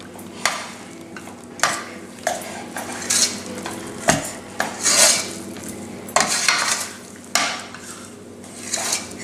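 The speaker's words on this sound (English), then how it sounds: "So all you have to do is mix it, stir it so that it's mixed thoroughly." Thick cashew barfi mixture with ghee is stirred in a pan, producing repeated scraping clinks of a spoon against metal over a low sizzle, irregular and close up, with no voices.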